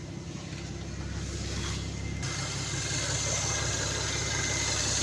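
A Nissan/Infiniti VQ37 engine, recently repaired for a MAF sensor fault, idles smoothly with a steady, even low hum that swells slightly partway through, with no talking.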